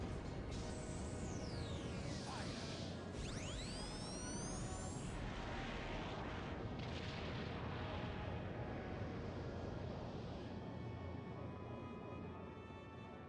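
The Hydra cannon in Skies of Arcadia Legends fires with a dense, roaring barrage of booming blasts and whooshing sweeps, loud and continuous before slowly trailing off, with no talking.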